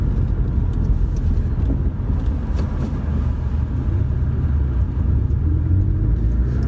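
Porsche 718 Boxster S engine while driving on London roads, a continuous low rumble with road noise heard from inside the car, steady and moderately loud without any talking.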